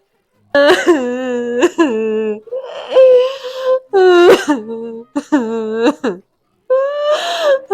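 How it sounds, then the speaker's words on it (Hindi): A child cries and sobs in loud, halting bursts indoors, wailing cries broken by short gasping pauses, close and alone with no other sound around it. "पूरे रोने की आवाज कैसी आ रही है?"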